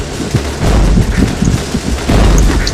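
Loud, continuous gunfire and explosions in a shooting video game, dense rattling shots and booming blasts overlapping for the whole stretch.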